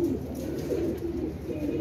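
Domestic pigeons coo softly in a low, murmuring warble, several birds blending into a continuous close rumble with no talk.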